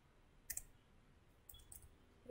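Typing on a computer keyboard under Windows: a couple of short bursts of quiet, close key clicks separated by a pause, with no talk.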